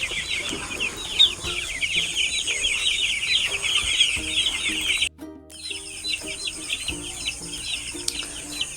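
Many broiler chickens clucking and chattering together in a busy, continuous chorus in the early morning, with a brief sharp squawk and a short pause partway through.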